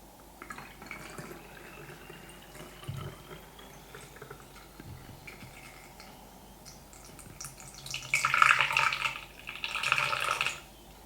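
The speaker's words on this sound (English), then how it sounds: "you're going to add your water." Water pours into a bottle already holding apple cider vinegar for a hair rinse, starting as a faint trickle and growing into two louder, fuller bursts of filling liquid near the end.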